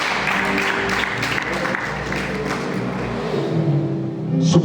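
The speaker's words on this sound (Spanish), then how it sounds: "Una ofrenda de aplausos otra vez." A church congregation claps together in sustained applause, a dense continuous patter of many hands throughout, with background music tones underneath and a slight swell at the end.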